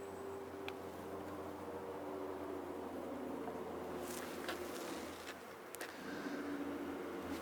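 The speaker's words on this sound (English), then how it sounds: "there's still a bunch of bees inside the bucket" A steady, dense buzzing of many honey bees inside a bucket hums on without pause, close and continuous, with a few faint clicks and knocks.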